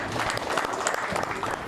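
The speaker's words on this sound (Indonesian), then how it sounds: "Tepuk tangan Kang Yat" An audience applauds during a talk-show dialogue on local government in Bandung, steady dense clapping heard close and loud throughout, with a voice faintly mixed in underneath.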